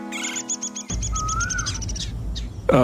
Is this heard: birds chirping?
yes